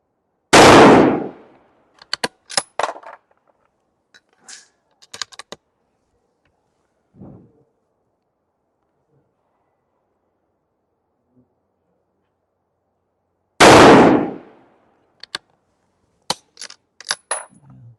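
Two loud, close rifle gunshots, roughly twelve seconds apart, fire while a muzzle tuner is tested with one load, each followed by scattered metallic clicks and clatter from working the action.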